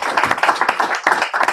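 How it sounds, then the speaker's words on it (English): Brief hand clapping from a small group during live chess commentary, a quick run of close, distinct claps at an uneven rhythm, loud and alone. "Round of applause for the gentleman."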